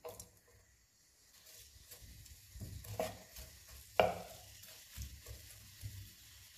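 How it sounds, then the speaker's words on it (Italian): Chopped shallot and parsley stems frying in extra virgin olive oil in a pan: a quiet, steady sizzle with a few sharp clinks and scrapes of stirring. "Mettiamo un bel giro di olio extravergine di oliva. Aggiungiamo lo scalogno."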